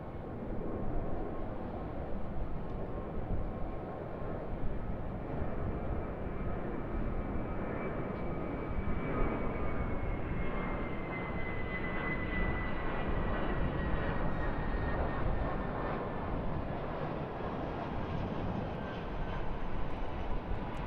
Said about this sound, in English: Got a Jetstar 320 departing off of 34 right.